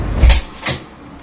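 Someone rummages through a drawer in a father's bedroom, two quick wooden knocks and a sliding bump, close and loud, followed by quiet room tone with no voices.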